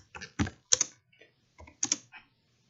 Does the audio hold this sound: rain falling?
no